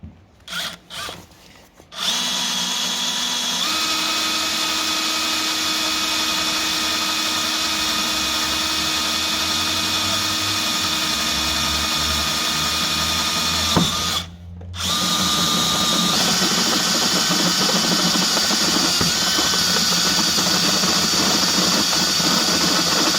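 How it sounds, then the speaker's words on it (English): A power drill bores an 8mm hole during a school bus roof rack build, running loud and continuous for about twenty seconds, with a short pause and pitch shifts partway through, no talk. "And then drill an 8mm hole in there"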